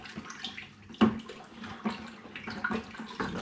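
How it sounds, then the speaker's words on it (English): Peach and passion fruit cider mix stirred in a fermenter, quiet sloshing and swishing of liquid with a few soft knocks, close and faint. "give that all a good stir."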